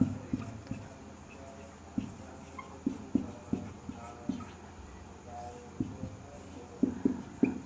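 A pen writes a heading for reflexive relations in a class 12 maths exercise, giving a series of soft, close scratching strokes with short gaps between them against a quiet room background.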